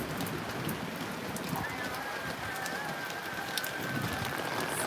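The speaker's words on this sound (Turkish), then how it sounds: "Şu an yine yağmur başladı." Rain falls steadily at a mountain plateau garden in Mersin, a soft continuous patter of drops on surfaces with a faint tonal hum running through the middle, no voices.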